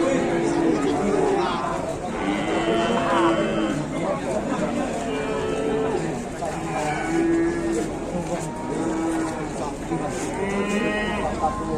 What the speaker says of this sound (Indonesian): sapi dari Telomolyo ini